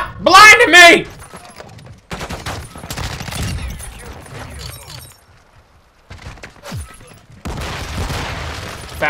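Bursts of rapid automatic gunfire from the Chimera rifle in Call of Duty: Modern Warfare, heard in separated clusters with a loud opening burst, quieter sustained firing and a final burst, with a voice speaking in between.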